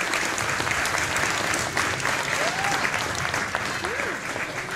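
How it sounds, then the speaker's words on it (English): Sustained applause from a holiday concert audience for a teacher and her students, dense steady clapping filling the room at moderate level, with faint crowd murmur and a brief voice or two underneath. "let's give her and our students a round of applause"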